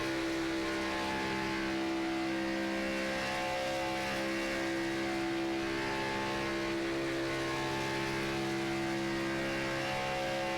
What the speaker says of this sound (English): Get to pull this up right now for Tony Burt, riding on board with him as everything gets underway.